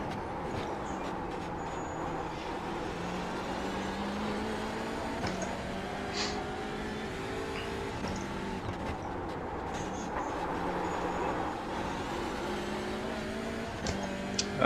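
A TCR touring race car in the iRacing sim, lapping the Long Beach street circuit, gives a steady, fairly loud engine drone. Its pitch rises and drops through repeated gear shifts with no break.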